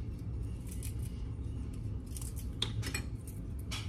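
Salad ingredients being chopped or snipped, a few crisp metallic cuts and clinks standing out over a constant low kitchen hum, scattered irregularly rather than in a steady rhythm.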